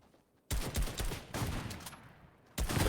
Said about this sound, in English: there is a player right there going to try and take the snipe shot